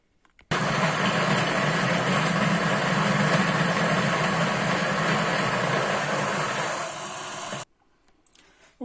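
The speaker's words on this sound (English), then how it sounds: "Anyway, onto the grind, guys." An espresso coffee grinder runs steadily for about seven seconds, grinding beans in one continuous loud whirring burst that tapers slightly before stopping abruptly.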